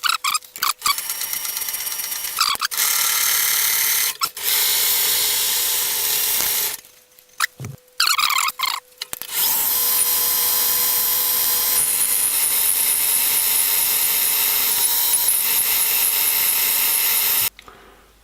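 A die head cuts a thread under power on an Elliott Victoria Junior milling machine, making a loud, continuous metallic grinding whir with brief stops and clunks midway, then running on steadily before cutting off.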